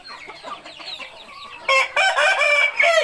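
Rooster crowing at a Thai chicken farm: a softer, distant-sounding start gives way to a loud, close crow with several strong sustained bursts toward the end, heard alone without voices.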